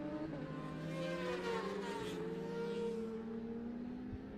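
A Honda superbike screams past on a race circuit, its engine note rising and then dropping as it goes by, loud and continuous, with a steady high whine.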